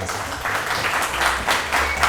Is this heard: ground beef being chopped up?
no